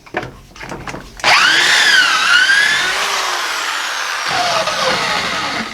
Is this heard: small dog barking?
no